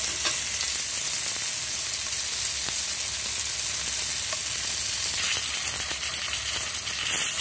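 Fish frying in a pan after being flipped, a loud, continuous close-up sizzle with scattered pops and crackles throughout, no talking.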